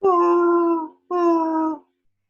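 A voice imitates the howl of Chewbacca the Wookiee, giving two loud, drawn-out moaning calls separated by a short gap, each lasting under a second, with no other sound behind them.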